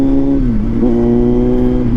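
Kawasaki Z900 motorcycle engine running loud and close through its exhaust, a steady throbbing drone with a quick rev dip and rise midway, no voices.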